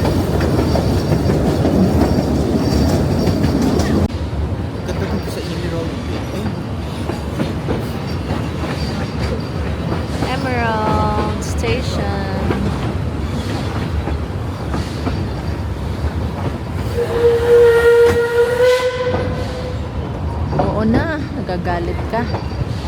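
Puffing Billy steam train rolling along with steady rumble and clickety-clack, a whistle-like squeal rising midway and a sustained whistle tone later, with people talking nearby.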